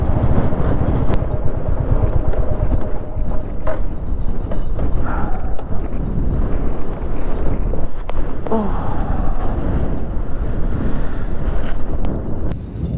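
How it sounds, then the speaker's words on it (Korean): Strong wind blows steadily outdoors, a dense, rumbling roar buffeting the microphone for the whole stretch, with no clear talk over it. "바람이 너무 많이 불어."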